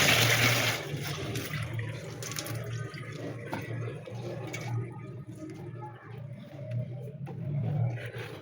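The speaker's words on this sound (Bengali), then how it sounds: "আর বাসন টাসনও ধুয়ে নিই" Tap water runs steadily in a home kitchen while dishes are washed after cooking, a continuous close splashing rush that swells and eases slightly with no talking.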